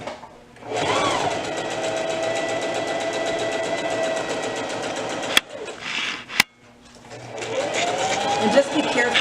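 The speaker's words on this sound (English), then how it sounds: "So we're going to go ahead and sew this all the way around." A sewing machine runs steadily for several seconds while stitching around an upcycled shirt, then pauses briefly with a couple of sharp clicks before the motor hums again, with a voice talking over it.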